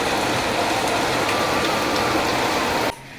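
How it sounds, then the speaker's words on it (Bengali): Heavy rain pours in a loud, unbroken roar close by, then cuts off abruptly near the end. "কল কল করে দিয়ে বৃষ্টি হয়ে যাচ্ছে।"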